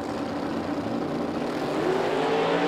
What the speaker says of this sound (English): So Tobner is pre-stage, going to hear him start to spool that thing up as Bill Gregan, the nitrous car, puts the no